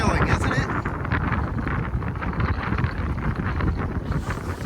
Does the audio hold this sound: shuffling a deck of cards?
no